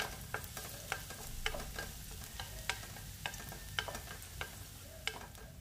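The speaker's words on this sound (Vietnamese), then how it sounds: "Trong lúc mình phi thì mình cũng đảo đều lên luôn nghe quý vị, để cho tỏi băm của mình nó sẽ vàng đều lên." Minced garlic frying in hot oil in a home kitchen, a soft steady sizzle punctuated by regular sharp scrapes and taps of a utensil stirring the pan, fairly quiet and without talk.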